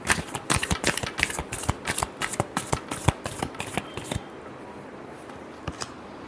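A deck of tarot cards is shuffled close up in rapid, rhythmic riffles for about four seconds, then a few softer taps and slides as the shuffling winds down.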